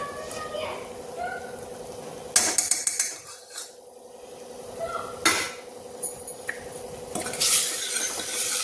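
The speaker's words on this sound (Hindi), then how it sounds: "इसको चलाते रहिए।" Jackfruit curry with cream being stirred in a pan, a spoon scraping and clacking against the pan in irregular bursts, close, with a hiss in the background.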